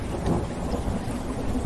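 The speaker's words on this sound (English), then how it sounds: "Each distant rumble of thunder reminds you that you are safe and grounded." Steady gentle rain hisses with a low, continuous thunder rumble rolling far off underneath, an even, unbroken wash of sound with no voices.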